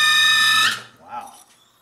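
A drill bit boring into titanium gives a loud, piercing, tonal squeal for under a second, then cuts off, leaving a brief fainter whine.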